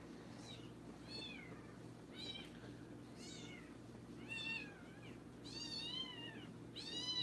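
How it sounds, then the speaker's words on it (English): Several cats meow repeatedly at irregular intervals, faint and a little distant, over a low steady background hum. "hear the cats"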